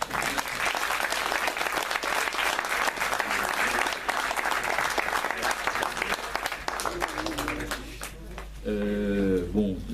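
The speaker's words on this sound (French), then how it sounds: "les applaudissements veulent dire que ce débat vous a plu" A debate audience breaks into sustained applause, a dense, loud wash of clapping that fades near the end as a voice begins speaking.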